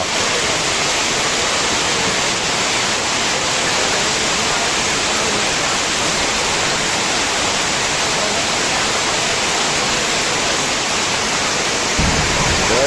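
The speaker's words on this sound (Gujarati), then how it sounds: "ધોધમાર વરસાદ વરસી રહ્યો છે ગોંડલમાં અત્યારે" A heavy downpour in Gondal pours down as a dense, steady roar of rain that stays loud and unbroken from start to finish, with no voices over it.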